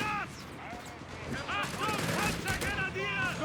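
Scattered bursts of gunfire in the Company of Heroes 3 video game crackle through a busy battle soundscape, with voices shouting and talking over the shots.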